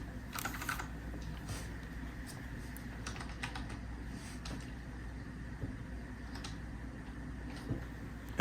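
HTML code being typed on a computer keyboard, an irregular stream of light key clicks with a few heavier bursts, close and fairly quiet over faint background rumble, with no talking.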